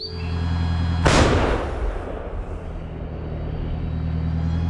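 Self-propelled artillery gun firing from a dug-in stationary position, one massive close blast followed by a long rumbling decay over a steady engine idle.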